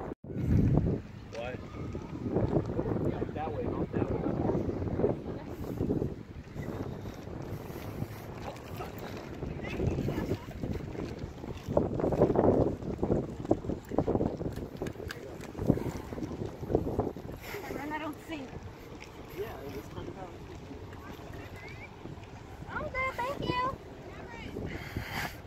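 Gusty wind rushes and buffets the microphone throughout, with people talking intermittently beneath the blustery noise, outdoors in Santa Monica, Los Angeles.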